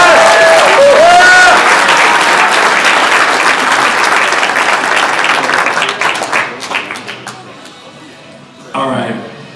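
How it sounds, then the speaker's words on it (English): An audience applauds loudly at an air rifle shooting competition's prize ceremony, dense clapping that fades out with a little talk mixed in near the end. "special round of applause there."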